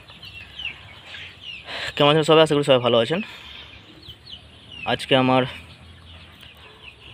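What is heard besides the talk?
chickens clucking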